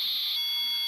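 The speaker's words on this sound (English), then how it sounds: "we can hear the little beep as we identify the delineation between each of the packets" Short high-pitched electronic beep marking the gap between FUNcube-1 satellite telemetry packets, a steady tone lasting about a third of a second before cutting off, followed by faint hiss.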